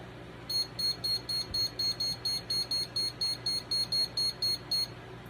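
A kitchen timer beeping while brownies bake in the oven, a fast, regular series of about a dozen high, shrill beep pairs over a quiet room hum.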